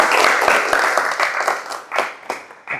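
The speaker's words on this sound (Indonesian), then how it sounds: "Tepuk tangan untuk Mas Iksan." Classroom applause in an automotive electrical lesson, a burst of clapping from a group of students that starts full and thins into scattered claps over a few seconds.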